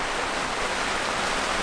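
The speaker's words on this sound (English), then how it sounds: "It's a heavy rain" Heavy rain pours down on a sailboat caught in a storm at sea, with winds persisting at 32 knots; a dense, steady, loud hiss of rain fills the whole stretch without a break.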